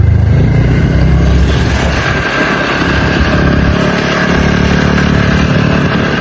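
Motorbikes and other vehicles moving along a road at Giri Park, a loud continuous engine rumble with idling and revving, close and steady throughout.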